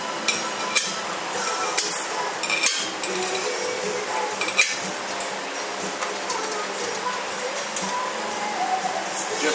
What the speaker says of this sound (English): Now we get our bolts, install our bolts.